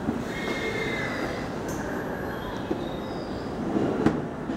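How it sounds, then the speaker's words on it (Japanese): A JR 255 series limited express rolls into Tsudanuma station on the Sobu Line, a steady low rumble of wheels with faint squeals and a brief clank near the end, no voices over it. "3番線、列車が到着となります。"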